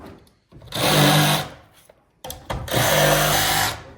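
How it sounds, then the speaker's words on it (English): A jigsaw cuts through a wooden staircase stringer in two loud bursts of about a second each, with a short pause between them, the motor buzzing steadily through each cut. "you're getting right here a perfect cut just with the jigsaw every single time"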